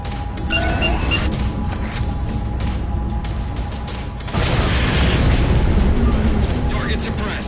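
A particle cannon blown up in the Halo 4 video game: loud rumbling booms and blasts, then a heavier explosion surging midway, with talk in the mix.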